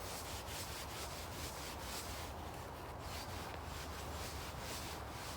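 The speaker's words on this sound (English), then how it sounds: "just attach it to the tree, to a carabiner, and then just scrub on like this, covering as much as I can" Green honing paste being scrubbed onto a leather strop hung from a tree by a carabiner, a steady, continuous rubbing hiss that runs close and fairly loud from start to finish with no voices.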